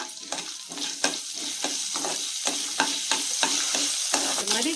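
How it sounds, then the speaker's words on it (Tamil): Cashews, pepper, cumin, curry leaves, ginger and asafoetida sizzle in hot oil for pongal, with a steady close frying hiss broken by regular scraping stirs of a spoon in the pan. "முந்திரி, மிளகு, சீரகம், கறிப்பிலை, இஞ்சி, பெருங்காயம் இது எல்லாத்தையும் அந்த எண்ணெயில் போட்டுடலாம்."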